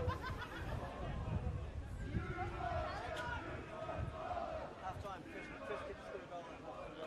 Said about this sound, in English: A little crowd building in to the venue tonight.